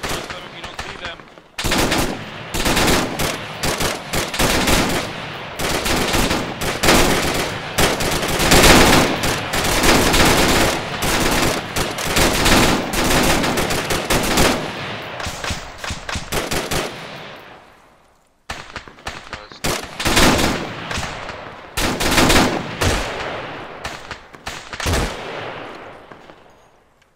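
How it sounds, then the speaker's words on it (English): Sustained machine-gun bursts and rapid rifle fire from a large-scale co-op ArmA 3 firefight, loud and dense throughout, with a brief lull before heavy shooting resumes. "Still taking fire to the west."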